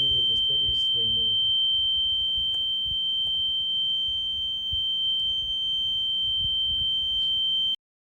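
The buzzer on a rain-detection project board gives a continuous high-pitched electronic tone at steady volume for several seconds, starting under brief talk and then sounding alone before it cuts off.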